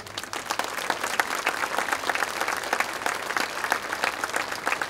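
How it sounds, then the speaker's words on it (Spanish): An audience applauds a solo singer steadily at a soloists' concert in San Rafael, a dense wash of clapping hands that holds at an even level throughout. "Ese aplauso para Alba."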